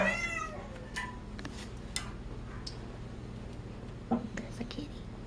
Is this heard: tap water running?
no